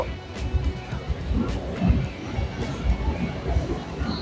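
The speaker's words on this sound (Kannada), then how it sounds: "ಈಗ ಸ್ವಲ್ಪ ಸ್ಪೀಡಪ್ ಆಗಿದೆ ಟ್ರೈನ್" Shinkansen bullet train speeding up, rumbling along the tracks with rhythmic clatter and a steady low roar, a few faint knocks rising over the ongoing motion.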